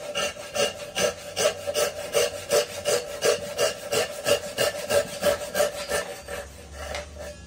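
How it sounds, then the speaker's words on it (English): A new Japanese razor saw cross-cuts wood in a steady rhythm of about two strokes per second, each push and pull a crisp rasping swish close by, continuing alone for several seconds. "Using a good quality new Japanese razor saw is such a pleasure."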